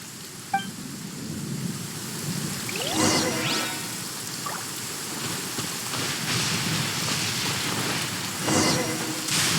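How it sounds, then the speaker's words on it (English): A lightning storm in Genshin Impact brings steady, hissing rain with low rumbles of thunder throughout, and a few brief chirping and crackling accents rise above the downpour. "Uh-oh! Lightning storm!"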